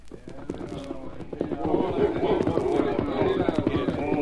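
Horses gallop under a voice narrating, their hooves drumming in a rapid, steady clip-clop that grows denser and louder after the first second and keeps up behind the speech.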